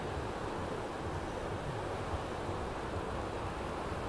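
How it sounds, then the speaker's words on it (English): Sea waves wash onto the beach at Blackpool, a constant close hiss and roar of surf with no distinct breaks and no talking. "I could listen to the sea all day."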